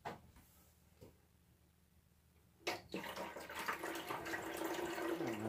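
Water pours into an AeroGarden hydroponic system. After a few soft bumps, a steady, loud gush starts partway through and keeps running to the end, filling the basin with a continuous splashing rush.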